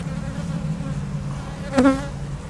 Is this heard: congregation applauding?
no